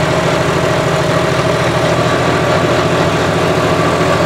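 A modified turbo-diesel John Deere 5405 4x4 tractor engine runs at a steady throb, loud and close, with an even mechanical drone and no voices.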